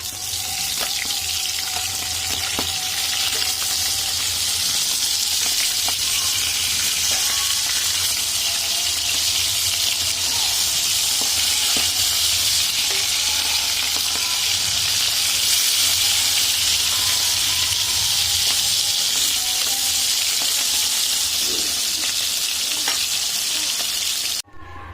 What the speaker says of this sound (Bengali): মাছগুলো দেখো ভালো করে ভেজে নিয়েছি আমি।